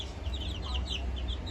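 Young chicken chicks peep and cluck close by, a rapid string of short, high calls repeating over a low background rumble.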